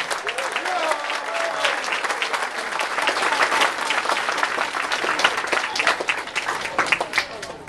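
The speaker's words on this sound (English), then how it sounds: "So have a round of applause for the bowling" A crowd at a Special Olympics bowling regional tournament in Concord, California applauds in a sustained, fairly loud wash of clapping, with some voices and cheers audible within it.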